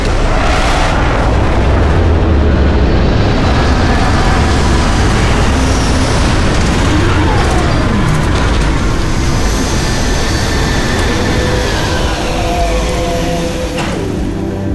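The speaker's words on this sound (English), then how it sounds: "Landing struts primed. Retros firing." Spaceship retro thrusters fire continuously during a landing in the video game Starfield, a loud, sustained roaring rumble with deep booming layers that holds steady for the whole stretch, with no talking.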